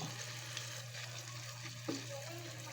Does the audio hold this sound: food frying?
yes